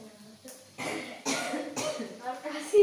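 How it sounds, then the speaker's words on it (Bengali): Someone coughs several times in short, raspy bursts after eating hot spicy food, close to the listener, with faint talking between the coughs. "আর কাশি কাশি আসবে এবার"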